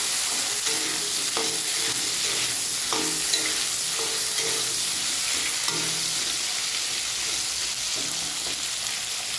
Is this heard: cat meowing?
no